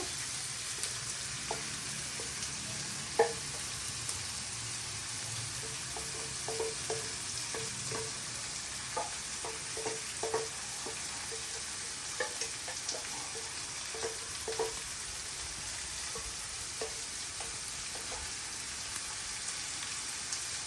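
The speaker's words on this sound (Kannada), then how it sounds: "ಇದೊಂಚೂರು ಗೋಲ್ಡನ್ ಆಗೋವರೆಗೂ ಹುರ್ಕೋಬೇಕು" Sliced onions frying in oil in a pan for onion chitranna, a steady soft sizzle with scattered crackles and pops, close and fairly quiet, without talk.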